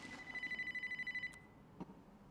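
A telephone rings in a quiet indoor room with a steady electronic trill of about a dozen rapid pulses lasting roughly a second, then it cuts off, followed by a soft click as it is picked up.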